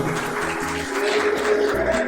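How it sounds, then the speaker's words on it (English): An audience at a Raja festival celebration gives steady applause. The clapping is dense, continuous and moderately loud, with voices blended into the crowd noise. "please give a big round of applause"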